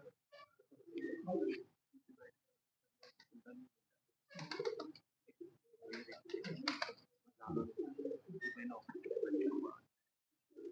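Pigeons on a rooftop in Pakistan coo in soft, repeated bursts with short pauses between them, close by and fairly quiet.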